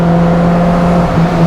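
A 1970s SIMCA 1000 Rallye compact sports car engine revs under acceleration, a loud, close, sustained droning growl with a steady tone and a slight dip near the end.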